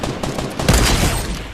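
Rapid burst of explosive gunfire-like blasts from a grenade launcher in GTA The Ballad of Gay Tony, loud and dense, rolling into a booming swell midway with no voices.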